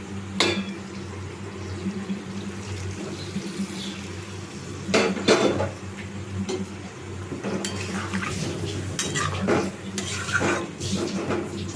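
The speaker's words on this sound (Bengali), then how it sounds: "তো বন্ধুরা এবার আমি জল দিয়ে দিচ্ছি।" Water is poured into a pan of chili chicken, with a soft liquid wash under clinking utensils and scraping cookware. A couple of sharp metallic knocks stand out.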